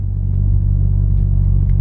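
A BMW car driving straight with its throttle pedal box switched off gives a steady, loud low engine rumble with road noise heard from inside the cabin, with no voices.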